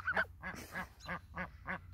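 Sebastopol geese, an ornamental breed with long curly feathers, honk six times in a steady series of nasal calls, close and fairly loud, with no talk over them.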